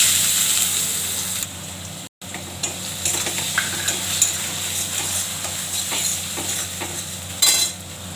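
Potatoes fry in a nigella and cumin seed tempering with a continuous sizzle. Close utensil scrapes and clinks against the pan punctuate the sizzle, with a brief dropout partway through.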